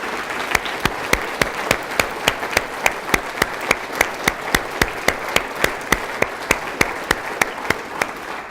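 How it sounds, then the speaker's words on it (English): Rhythmic, unified clapping from an academy all-hands gathering honoring promoted and tenured faculty, sharp evenly spaced claps repeating steadily for several seconds over a faint crowd bed. "If you would please stand so that we could give you a round of applause"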